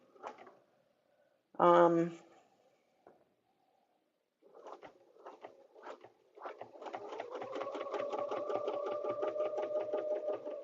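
A sewing machine stitches a spiral design on a quilt with a ruler, starting and stopping in short bursts before settling into a fast, steady needle patter. A brief loud knock comes early on, and the sound is fairly faint overall.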